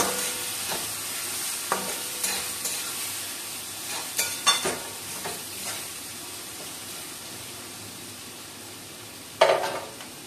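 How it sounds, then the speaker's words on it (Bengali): Onions frying in a pan with a low, steady sizzle, punctuated by occasional spatula scrapes and a single louder clank near the end. "পেঁয়াজটা আমি ভালো করে ভেজে নেব লাল করে।"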